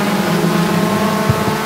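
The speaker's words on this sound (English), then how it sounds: "Off and racing here at Sauble Speedway down the back chute." Race cars at Sauble Speedway roaring down the back straight during a combined 4-cylinder feature, a loud continuous engine drone alone with no talk.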